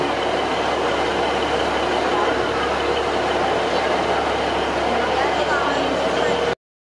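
A train runs through Bridgend railway station, giving a loud, continuous rumble with steady rail and wheel noise that holds for over six seconds before cutting off abruptly.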